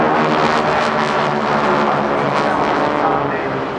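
GEICO Skytypers vintage propeller aircraft roaring past at the 2008 NAS Oceana Airshow, a loud, sustained engine drone with a steady throaty rumble close overhead, while an announcer talks over it.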